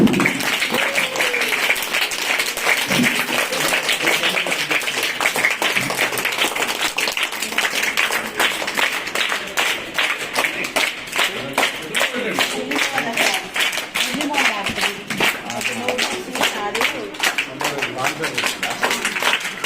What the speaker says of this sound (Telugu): క్లాప్స్ కొట్టండి గట్టిగా.